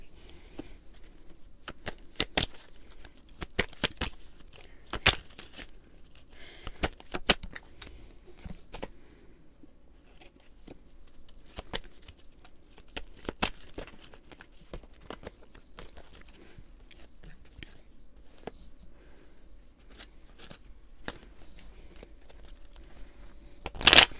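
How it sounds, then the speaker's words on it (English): Cards are shuffled repeatedly, with sharp riffling bursts and soft shuffling between them, close and quiet, with no talking. "I just want to make sure that the cards are evenly shuffled and distributed"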